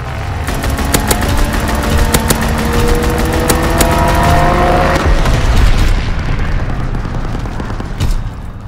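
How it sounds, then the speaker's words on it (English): Strafing run in the video game Call of Duty WW2, with rapid heavy gunfire and rumbling booms from aircraft passing overhead that fade into a lower roar. "Strafing run inbound."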